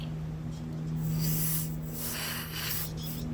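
Short hissing bursts of aerosol cleaner sprayed into lawnmower carburetor holes, close and fairly quiet, pulsing a few times over a low electrical hum.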